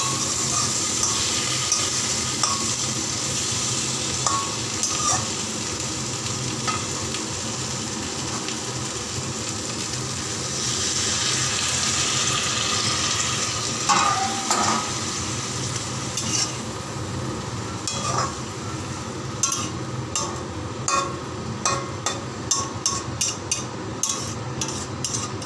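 Onions sizzle in a pan for a Bengali fish curry as a little water is added, with steady frying hiss, scraping stir strokes and some clinks, close and continuous without talk.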